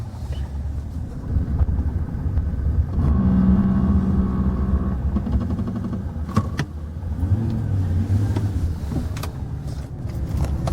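A Chevy with a common low-speed ABS fault grinds and buzzes from the brakes as the car rolls to a stop. A rough droning growl rises twice over steady road and engine noise, with no talking.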